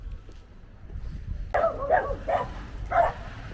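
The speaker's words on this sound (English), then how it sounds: "Some unfriendly dogs here." Several unfriendly dogs bark at a passerby outdoors, a sudden burst of three or four loud, close barks following a quieter stretch of background noise.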